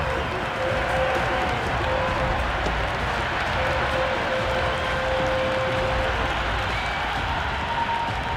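Cricket stadium crowd at a Women's Premier League match between Gujarat Giants and UP Warriorz roars and applauds after a big hit over the boundary, a dense, steady wall of cheering that holds loud throughout.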